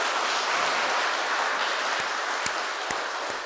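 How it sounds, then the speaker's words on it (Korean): A church congregation at a feast-day Mass claps steadily in a dense, even wash of applause, with a few louder single claps standing out near the end. "축하 인사를 박수로."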